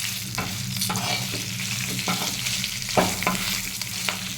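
A pinch of turmeric is stirred into a pan of frying food, giving a dense, continuous sizzle with repeated spatula scrapes at an even rhythm. No voices are heard.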